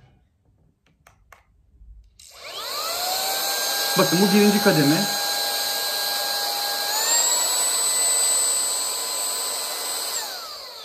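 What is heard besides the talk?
car vacuum cleaner motor running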